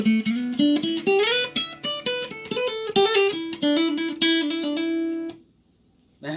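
Guitar played through a piezo pickup, bright plucked notes and strummed chords with crisp attacks, close and clear, ringing out before fading to near silence.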